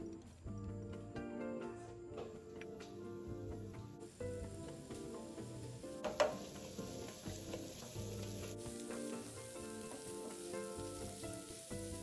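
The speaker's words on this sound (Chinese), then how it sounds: "热锅倒入点油， 接着将备好的洋葱与黑胡椒粉倒入拌炒。" Onion and black pepper stir-fry in hot oil in a wok for a char siu bun filling, a soft steady sizzle with occasional stirring scrapes under background music.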